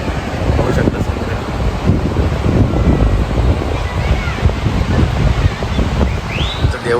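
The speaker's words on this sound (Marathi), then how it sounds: "हे समुद्र आहे" Sea waves and wind at Ganpatipule beach, with continuous loud rumbling surf and gusty wind buffeting the microphone. A voice talks faintly over it.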